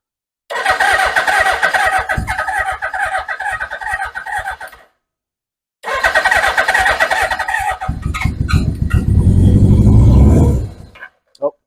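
A 1981 Suzuki GS750 motorcycle engine cranks and catches, running in a rough, uneven idle for several seconds, cutting out, then firing again and revving louder before stopping abruptly; close and loud.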